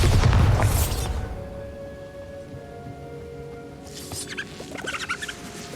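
A Bombarda blasting spell explodes in Hogwarts Legacy, a loud booming burst that decays over about a second into a quiet game ambience with faint sustained tones, then scattered light crackling debris near the end.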